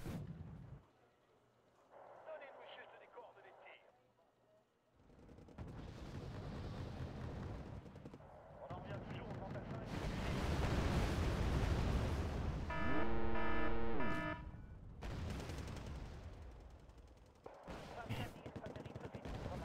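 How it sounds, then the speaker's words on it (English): Rocket artillery from an MLRS unit fires in the Wargame: Red Dragon strategy game, with deep rumbling booms and a sustained roaring barrage swelling loudly mid-way, mixed with other battle noise. "MLRS firing here, so watch it."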